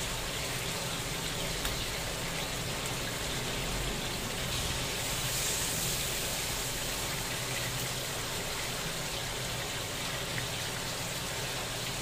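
Heavy rain drums on a kitchen roof as a steady, dense hiss that stays unbroken and loud throughout, with no pauses or voices.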